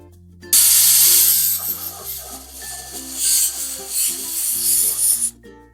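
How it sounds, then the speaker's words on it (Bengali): A pressure cooker boiling sweet potatoes lets out a loud, sustained hissing whistle of steam that rises abruptly, surges and wavers for about five seconds, then cuts off. "দেখুন, 4টা সিটি দিয়ে নিয়েছি।"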